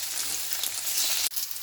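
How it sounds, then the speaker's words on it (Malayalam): Sea bream fries in hot oil with a bright, continuous crackling sizzle, close and fairly quiet, broken by one brief dip near the end. "അപ്പോൾ നമുക്ക് ചൂടായ എണ്ണയിലോട്ടിട്ട് നമുക്ക് വറുത്തെടുക്കാം"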